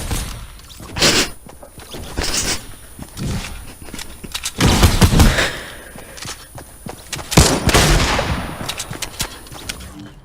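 Gunfire at a shooting range in a video game: irregular sharp shots and short bursts, loud and close, spread across ten seconds with brief pauses between volleys.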